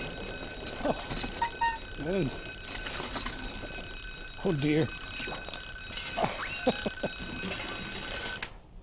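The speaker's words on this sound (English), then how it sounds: "Here's my alarm." An alarm rings with a bright, buzzing bell tone while people keep talking over it.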